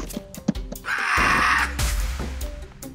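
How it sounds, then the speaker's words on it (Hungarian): A goat in the Goat Simulator video game lets out a strange, drawn-out bleat that sounds almost like a whinny, set between several short sharp knocks and clatters. "egy kecskét én még tényleg nem hallottam ilyen nyomi hangot"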